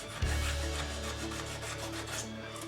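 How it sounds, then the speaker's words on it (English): Light scrubbing of thick hard water buildup, a continuous close rubbing and rasping with a faint rhythmic back-and-forth texture, at low overall level. "this is pretty thick, and so a little bit of light scrubbing there"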